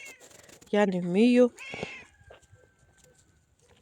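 An old cat lets out one long, wavering meow up close, followed by a brief human voice and quiet rustling.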